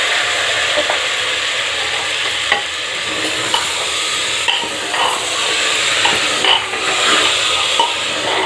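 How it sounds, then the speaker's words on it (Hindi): Peas are stirred and roasted in a hot pan with a steady sizzle throughout, plus occasional scrapes and taps of a utensil against the pan, loud and close. "इसे अच्छे से मिलाते हुए चलाएं। इसे भी 2 मिनट के लिए भूंजें।"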